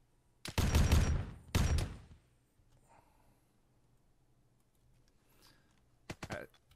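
Gunfire in the ARMA 3 Warhammer 40k mod: two loud, dense bursts of rapid shots early on, then a long quiet stretch of faint background, and a shorter burst near the end.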